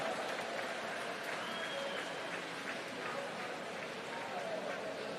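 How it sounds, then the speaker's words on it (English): Audience applause ripples through a swimming championships venue in New Zealand during heats, a steady distant patter of clapping mixed with crowd murmur and an announcer's voice over it. "Give him a big clap."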